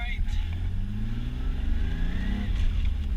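A turbocharged BMW E36 on its first track lap hums with a steady engine drone that climbs gradually in pitch, while someone talks over it.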